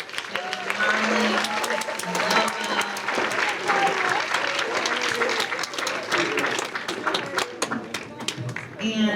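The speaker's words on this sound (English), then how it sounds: "let's have one more round of applause" Writers' festival audience giving a sustained round of applause, a dense wash of clapping at close range with some voices mixed in before it thins out near the end.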